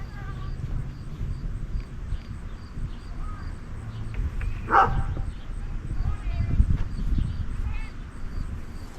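A dog barks intermittently at a rural property, a few sharp barks scattered among steady background noise while people talk nearby.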